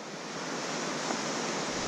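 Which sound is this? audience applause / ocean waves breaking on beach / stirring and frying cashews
ocean waves breaking on beach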